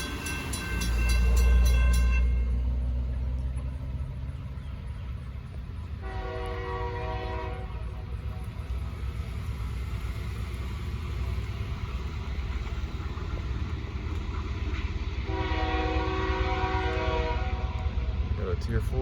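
A Norfolk Southern freight train rumbles past steadily, its horn sounding loudly at the start and blowing again twice later over the continuous rolling of the railcars.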